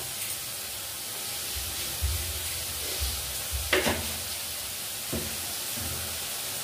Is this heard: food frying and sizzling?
yes